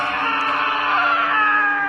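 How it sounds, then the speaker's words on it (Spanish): A loud, sustained high-pitched shriek like a cat's caterwaul, a horrific drawn-out scream held steadily for about two seconds with no pauses and no other sounds around it. "un ruido absolutamente horrendo cruzó por mis oídos. Era un grito."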